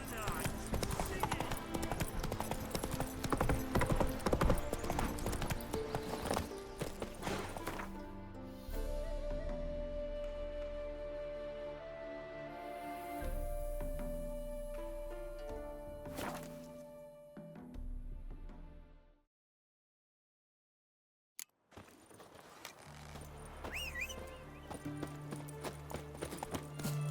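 In The Witcher 3, the horse Roach gallops with rapid rhythmic hoofbeats under loud music and voices, and a whinny comes through. After a short silence the hooves resume more quietly.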